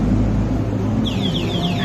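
Over a loud low rumble, an electric bicycle's anti-theft alarm starts midway, repeating rapid high-pitched sweeping chirps.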